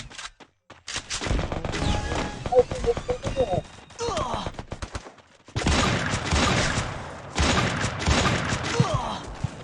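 Rifle fire from a Barrett M28B in a shooting video game, a string of loud shots and bursts with game effects, pausing near the middle and resuming in dense clusters, with a voice speaking over the action.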